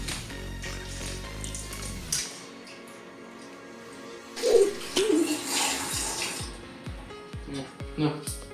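Tap water runs and splashes in a kitchen sink as grapes are washed for homemade wine, with clinks of dishes, intermittent gushes and a voice speaking briefly.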